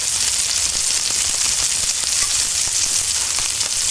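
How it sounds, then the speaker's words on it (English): Salmon fries in a garlic butter sauce in a skillet, giving a loud, continuous sizzle and bubbling hiss that stays even and close throughout. "And now we are going to return the salmon back to the skillet."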